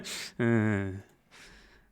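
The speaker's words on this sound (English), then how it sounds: "As I clear my throat yet again right in the mic." Throat cleared right into a close microphone, starting with a breathy rasp, then a voiced rumbling hum, then a softer breathy exhale. The sound is loud and very near.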